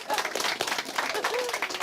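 Crowd at a football club breaks into applause for a surprise guest, a short dense patter of clapping with voices calling out over it.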